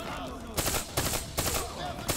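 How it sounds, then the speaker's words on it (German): Call of Duty Black Ops 3 gameplay, with loud bursts of gunfire from a three-round burst weapon repeating at a steady rhythm, four sharp clusters spaced about every half second. "So drei Schüsse, das ist auch so eine Burst jetzt"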